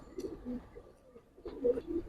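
Giribaz pigeons coo close by in low, throaty, rolling calls, a few overlapping bursts with brief pauses between.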